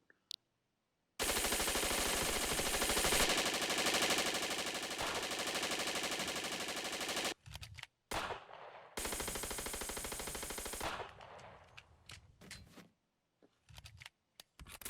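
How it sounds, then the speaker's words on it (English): Sustained automatic gunfire from two primary weapons in the WWII game World of War: a loud, dense stream of rapid shots runs for about six seconds, breaks off, then returns for a second long burst before trailing into scattered shots. "I can fire for an extremely long period of time with 2 primary weapons."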